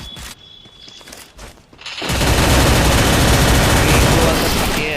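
Rapid automatic gunfire in the shooter game Free Fire, bursting in loud and continuous after a couple of seconds of quieter footsteps and brief sounds.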